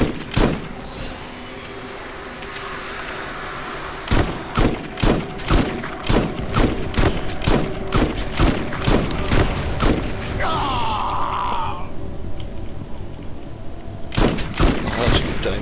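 Rapid, loud shotgun blasts fired at a final boss in a shooter game, coming in quick irregular volleys with a brief pause near the middle, over a busy backdrop of game sound.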